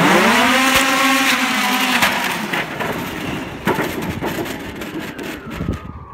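A Toyota-financed flying car prototype on its first attempt gives a rising mechanical whine that fades, followed by cracking, splintering crashes and scattered clattering impacts, fairly loud and close.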